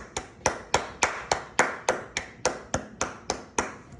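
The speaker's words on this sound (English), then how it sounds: "let's go and get out a hand clap" About a dozen sharp, evenly spaced hand claps, close and clear, at a steady tempo of roughly three per second.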